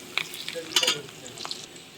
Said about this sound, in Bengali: পেঁয়াজটা যখন আমাদের ভাজা ভাজা হবে, বাদামি কালার আসবে